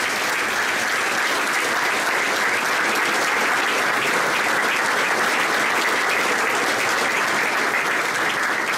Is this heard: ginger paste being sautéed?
no